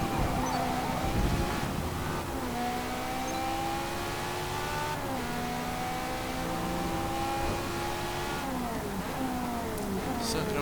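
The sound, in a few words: car engine revving in video game Forza Motorsport 4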